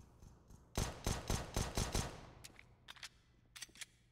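Gunfire from a Counter-Strike match on Mirage between Renegades and Eternal Fire in the ESL Pro League: a rapid cluster of loud, close shots, followed by a few shorter scattered bursts.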